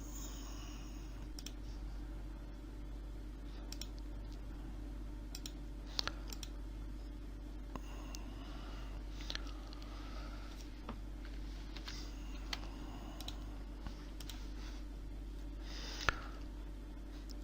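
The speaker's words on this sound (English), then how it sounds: "we take this, right click and then cut it" A computer mouse gives sparse, sharp clicks, a handful of isolated taps over a quiet room hum.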